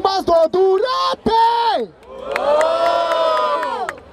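At a rap battle, the crowd shouts, whoops and cheers in loud bursts that swell into a sustained, ringing roar of voices, close and energetic.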